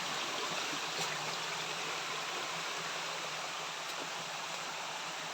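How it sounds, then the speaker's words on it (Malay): The Tak Abek waterfall, a low fall, roars as a steady, dense rush of falling water that holds an even level throughout, with no voices over it. "air terjun ini"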